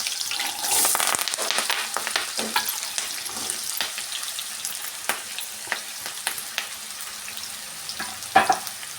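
Sliced onions and curry leaves fry in hot oil in a pan, giving a steady close sizzle with scattered pops, stirring scrapes and a louder clatter near the end.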